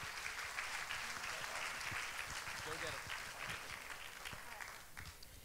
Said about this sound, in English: Please give her a warm Youth Development Network applause.